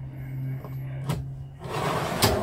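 Inside a 2024 Sunray 149 Sport camper, a drawer opens and closes close by. Two sharp knocks and a sliding rumble sit over a low background hum.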